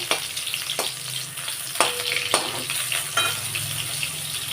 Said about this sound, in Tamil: கட்டி பெருங்காயத்தை இந்த எண்ணெயோடு நீங்கள் பொறித்து எடுத்துக்கோங்க